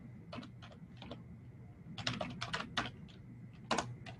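Bursts of typing on a computer keyboard, clusters of quick clicks separated by short pauses, close and fairly quiet over a low steady room hum.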